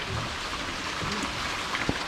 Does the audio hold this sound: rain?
yes